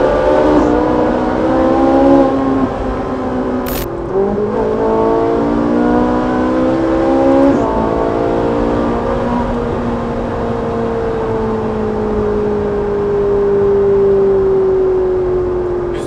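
Ferrari 458 Italia V8 revving hard inside a tunnel, rising and falling engine tones with quick gear changes echoing loudly off the walls, heard close with no talking.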